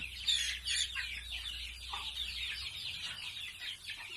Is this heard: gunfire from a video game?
no